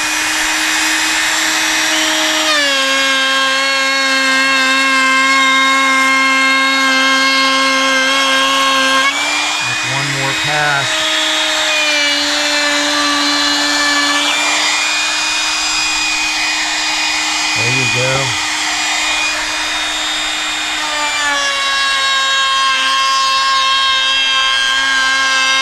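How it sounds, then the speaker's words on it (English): A small Bosch router cuts plywood while shaping boat stringers and transoms, a loud, steady high-pitched whine that runs throughout with slight pitch changes under load and a couple of brief low thumps. "I wanna show you guys how the router works"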